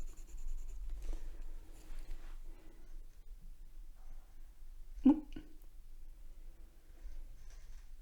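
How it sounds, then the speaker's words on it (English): A kneaded eraser rubs across graphite shading on paper, a faint, close scratchy friction in soft irregular strokes with one sharper tap midway and quiet gaps between. "test our kneaded eraser."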